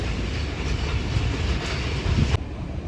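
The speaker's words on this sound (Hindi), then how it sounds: "आज की हमारी 48 डाउन रहमान बाबा एक्सप्रेस HJM 30R 8204 के ऊपर था और मंडी रेलवे स्टेशन से ये गुजर चुकी है।" The Rehman Baba Express, 48 Down, hauled by HJM 30R locomotive 8204, rolls through a railway station after dark with a loud, steady roar of wheels and rhythmic clickety-clack from the passing coaches, close by and continuous.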